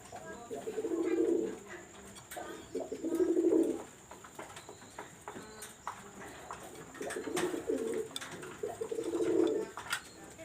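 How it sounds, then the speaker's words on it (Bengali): Teddy pigeons coo in soft, rounded bursts, four clear phrases spaced a few seconds apart, close by, with faint background noise between calls. "কবুতর।"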